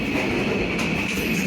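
Karachi Express train running on rails as it pulls into a station, a steady loud rumble of wheels and carriages with faint clattering throughout, no voices.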